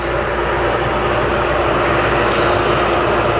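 A shop vacuum runs steadily in a knife workshop, a loud, constant broadband roar with no breaks.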